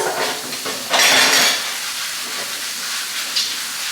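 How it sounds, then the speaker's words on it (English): Kitchen tap water running over a cutting board while it is rinsed, a steady hiss with a brief louder splashing burst near the start, then settling to a constant flow. "I'm just going to rinse off my cutting board so I can use it for my veggies"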